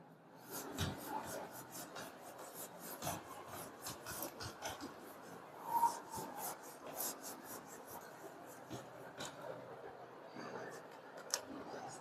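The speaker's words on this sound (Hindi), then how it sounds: "मैं रब कर रहा हूं।" Rubbing and erasing on a board during a maths lesson makes soft, irregular scrubbing strokes and scratchy rubs, fairly close and quiet, with faint breathing.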